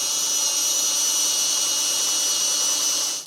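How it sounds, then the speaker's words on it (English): Power drill bores side holes into the steel beam of a Blue Ox base plate kit on a 2013 Mini Clubman, a loud, close, steady high whine that holds for about three seconds, then cuts off. "We're just going to be drilling out the side holes into our beam"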